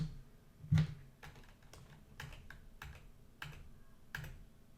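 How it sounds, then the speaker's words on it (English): Computer keyboard keys pressed one after another at an irregular pace, each a short, sharp, close click, fairly quiet and with no talk. "if I hit this keyboard and I press the button N, it'll change states"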